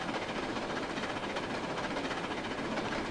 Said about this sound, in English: but you can actually drive the train